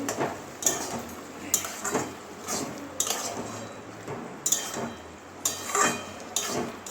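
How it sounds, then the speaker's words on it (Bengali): Fried potatoes go into a pan of mushroom curry, with repeated metallic clinks and scrapes of a spatula against the pan at a steady, uneven rhythm over faint background noise. "ভেজে রাখা আলুগুলো দিয়ে দিচ্ছি"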